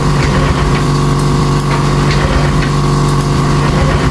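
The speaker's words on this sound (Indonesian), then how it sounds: "Dan di starter pun mau ngangkat, cuma nggak mau nyala motornya." A Honda Vario 150 scooter's electric starter cranks continuously without catching, a loud steady whirring drone with a constant low hum that never rises into a running engine.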